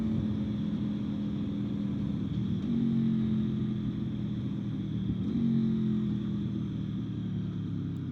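A V4 motorcycle ridden at speed, its engine a steady deep growl with wind rumble, pitch dipping and rising briefly twice as gears shift smoothly with a quick shifter, heard from the rider's position.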